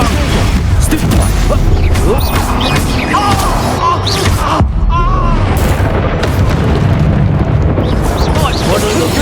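Repeated Expulso explosion spells in Hogwarts Legacy produce loud booming blasts and crackling bursts over dense combat noise, with spoken voices throughout.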